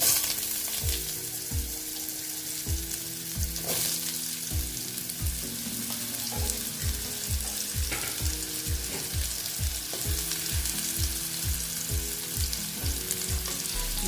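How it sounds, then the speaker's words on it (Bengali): Potatoes frying in oil in a pan for Bengali vegetarian chal kumra ghonto, steady close sizzling crackle broken by a regular series of sharp knocks as a utensil stirs and scrapes, no voices. "আলুগুলোকে আমি ভালো মতন ভেজে নেব আমি প্রায় আলুগুলোকে ফিফটি পার্সেন্ট ভেজে নেব"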